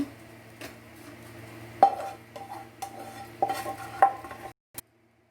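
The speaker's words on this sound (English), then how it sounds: "Now let me transfer this to the bowl." Roasted prawns and shallots scraped from a pan into a bowl: close metallic spoon scrapes and clinks against the pan, a few sharper knocks near the end, a faint steady hum underneath, then a sudden stop.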